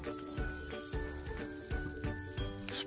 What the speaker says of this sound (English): You hear the butter already starting to sizzle.